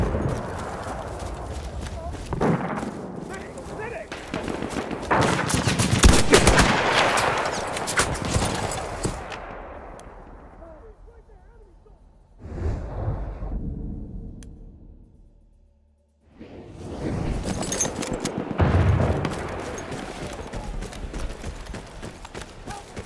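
Gunfire rattles through a Battlefield 1 battle, dense and loud for the first several seconds, then fading. After a short near-silent gap, another loud burst of combat noise follows, with game voices talking over parts of it.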